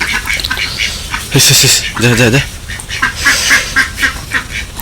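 Ducks quack in short, nasal bursts close by at a village home, a clear cluster of quacks in the middle while someone talks loudly over them.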